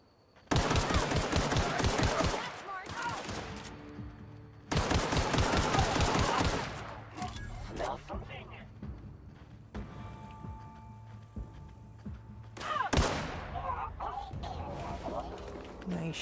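Video game gunfire in two loud rapid bursts of rattling shots, then a later shorter burst, with quieter game ambience between them.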